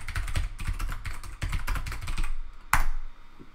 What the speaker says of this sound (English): let me plug in my keyboard. It's going to go doot-doot-doot-doot.